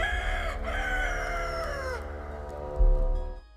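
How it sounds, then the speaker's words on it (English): A rooster crows loudly and close by, one long drawn-out call that rises and then falls away, with a low rumble of background noise underneath. "The words had barely left his mouth when the rooster crowed."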